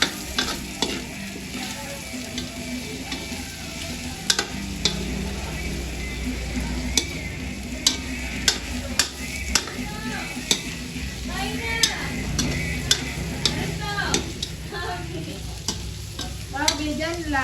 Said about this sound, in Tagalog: Lalagay ko na po itong bawang at sibuyas.